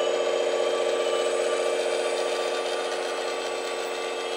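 A loaded RC truck runs flat out across sand, its electric motor giving a steady, loud high-pitched whine with a gritty buzzing edge that holds constant throughout, no voices over it.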